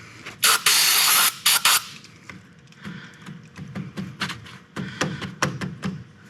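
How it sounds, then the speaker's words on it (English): Contact cleaner sprayed from an aerosol can into oily spark plug tubes on a Honda Acty, one long loud hiss and a few short bursts, followed by quieter tapping and handling noises. "Now I'm going to take all these spark plug tubes and spray contact cleaner in them"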